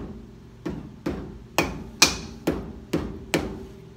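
A wheel hub on a 1971 Chevelle is tapped onto its spindle with a hammer, seven sharp, evenly spaced metallic knocks, close and clear, each ringing briefly before fading.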